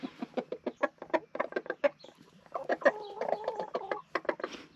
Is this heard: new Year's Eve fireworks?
no